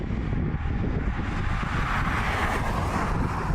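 An Alpina D4S driven on open UK roads, its engine and road roar steady and loud throughout, with heavy wind rush over the car and no talking.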